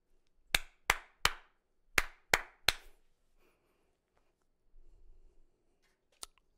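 Hand claps in a call-and-response rhythm during a percussion lesson, two quick sets of three sharp, close claps over near silence, then soft rustling and one last isolated clap.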